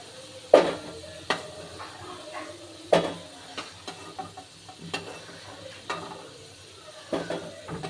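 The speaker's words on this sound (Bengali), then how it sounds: "বন্ধুরা আমার আলুগুলো ভাজা হয়ে গেছে, এবার আমি এক এক করে আলুগুলো তুলে নেব।" Potatoes finish frying in oil, a soft sizzle running under sharp metallic clinks and scrapes as a utensil lifts the pieces out of the pan one by one at close range, with no talking.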